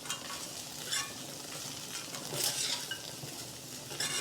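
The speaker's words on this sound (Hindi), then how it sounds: "बस 2-3 मिनट इसको मिक्स करना है हमें" Poha and fried peanuts stirred in a hot pan, giving a steady, soft sizzle with a few brighter scraping strokes, close and without talk.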